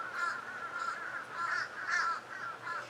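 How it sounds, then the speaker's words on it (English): Crows caw in a steady series of about six harsh, evenly spaced calls, moderately near and clear over a faint outdoor background, with no talking. "We got quacking crows."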